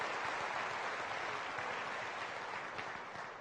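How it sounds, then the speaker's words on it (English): An audience at a university fall convocation claps in a steady, dense wash of applause that carries on throughout and tapers slightly at the end. "how long it would take to get the first round of applause"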